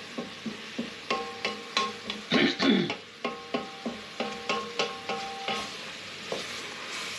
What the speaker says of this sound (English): So we'll just keep moving that about the pan for a wee bit.